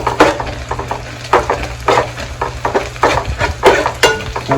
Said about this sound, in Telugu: క్యాబేజ్ వేసుకోవాలి.